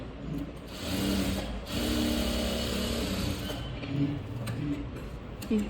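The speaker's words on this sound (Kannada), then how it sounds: "ಇಲ್ಲಿ ಇನ್ನೊಂದು ಸ್ವಲ್ಪ ನಾನು ಇದು ಸ್ಟಿಚ್ ಹಾಕ್ತೀನಿ ಈ ಕಡೆ ಸೈಡು ಅಷ್ಟೇ" Sewing machine running steadily while stitching the side seam of a blouse, a continuous close mechanical whir with brief pauses and restarts, no talking.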